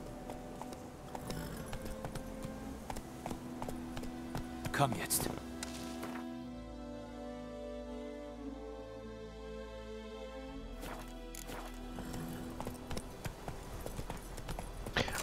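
Horse hooves clip-clop steadily at a walking pace in The Witcher 3, fairly quiet, with someone talking briefly over it and a pause in the middle.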